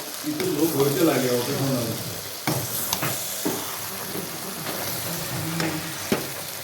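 Labra, a mixed vegetable curry with fried cauliflower, sizzles in a pan as it is stirred, with scraping strokes and clatter close by and a voice talking over the opening seconds.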